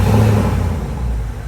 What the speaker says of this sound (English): Give it a couple revs, Jax.